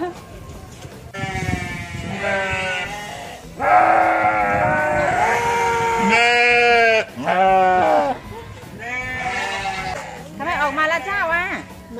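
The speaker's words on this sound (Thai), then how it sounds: "ทุกคนคะเราจะมาให้อาหารแกะกันค่ะ" Sheep and goats at a farm where visitors feed them, giving repeated loud bleats, some long and wavering, close by and overlapping one another across the whole stretch.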